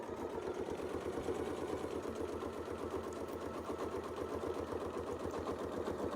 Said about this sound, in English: So I'll sew right in as I go.